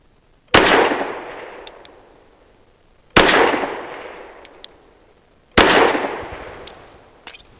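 Three loud, sharp pistol shots from a Fusion Firearms XF Pro loaded with Hornady Critical Duty 135 grain ammunition, spaced about two and a half seconds apart, each with a decaying echo and faint metallic pings between them.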